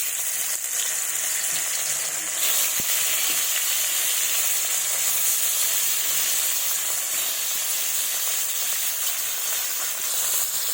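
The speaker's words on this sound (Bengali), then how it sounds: "সরষার তেল দিয়েছি কড়াই গরম হয়ে গেছে এবার মাছগুলো ছেড়ে দেবো" Fish pieces fry in hot mustard oil in a wok, giving a loud, steady, dense sizzle with continuous hissing and faint crackle throughout and no talking.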